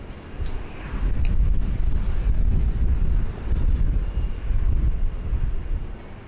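The Qatar Airways Boeing 777-300ER A7-BAC taxis toward its gate bay at Sydney Airport, a rumbling jet engine drone that swells and eases in waves, fairly close, with a couple of brief high clicks and no talk.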